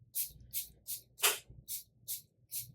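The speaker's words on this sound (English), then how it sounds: "I'm going to spray this on my hand." Seven short spray bursts of hair product from a pump bottle onto a hand, evenly spaced, close and crisp, with one longer, louder hiss in the middle.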